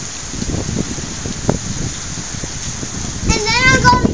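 Steady rain falls in a rainstorm, a continuous broadband patter heard close by throughout, with a voice briefly calling out near the end.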